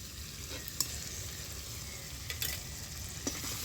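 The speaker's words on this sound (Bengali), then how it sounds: "সব উপকরণগুলো আমি ভালো করে কষিয়ে নেব" A spice paste of cumin, mustard, coriander and chili sautés in a pan, giving a soft steady sizzle with a few faint scrapes of stirring, quiet and close, with no talk.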